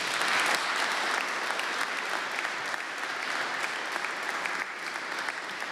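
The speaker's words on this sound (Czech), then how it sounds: "A teď zbývá ještě jeden potlesk pro tento panel, pro všechny vystupující" A conference audience applauds a panel of speakers with full, steady, continuous clapping that holds at an even level throughout, with no voices over it.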